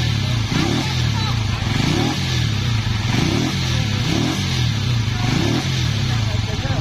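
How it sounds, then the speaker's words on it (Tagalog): A motorcycle engine runs steadily at elevated revs to charge a battery that isn't charging, a loud continuous drone with a rhythmic pulsing throb, close by and without a break. "ibigyan muna natin ng medyo mataas na RPM ang makina nang magkarga ang battery"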